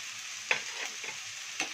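Onions frying in a pan with salt for a Godavari-style crab curry give a steady close sizzle, broken by two sharp stirring scrapes and a few softer spoon clinks, with no talking.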